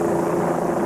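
Helicopters flying over a school shooting scene produce a loud, steady rotor and engine drone, close and unbroken for under a second.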